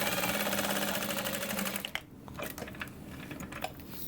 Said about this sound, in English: then I'm going to sew up the top